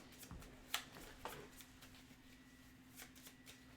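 Playing cards are shuffled close up, with quick riffling flutters and soft snaps, fairly quiet, over a faint steady hum.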